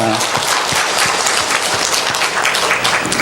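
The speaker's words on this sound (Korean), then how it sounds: "우리 박수로 하나님께 영광 돌리겠습니다." A church congregation claps together in praise after a choir performance, loud dense applause with scattered sharp claps and some murmured voices underneath.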